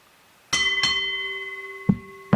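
A wrestling ring bell is struck twice in quick succession, ringing out with a sustained metallic tone, followed by two dull thuds.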